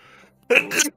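A short, sharp sneeze breaks out after a brief faint voice, a quick two-part burst of breath close to the microphone, heard during a French game commentary.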